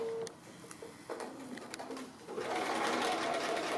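A sewing machine runs free-motion straight stitching on a fabric cake applique, its fast mechanical whir building and becoming steadier and louder toward the end, close up, with no talk over it.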